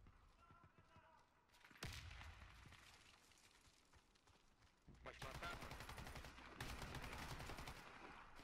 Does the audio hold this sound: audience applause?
no